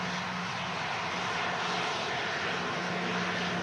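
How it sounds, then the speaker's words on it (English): A steady, loud roar from an airliner arriving at Manchester Airport on a windy day, either a KLM 737-800 or a Jet2 A330, holding constant with a low hum throughout. "And we've got a KLM 737-800, and following that will be our Jet2 A330, guys. An awesome arrival."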